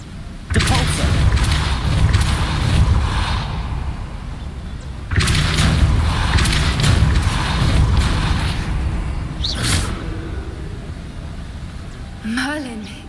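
Two loud booming Depulso spell blasts in Hogwarts Legacy, each a few seconds of rumbling force that slowly fades, followed by a sharp short burst and a brief whooshing effect near the end.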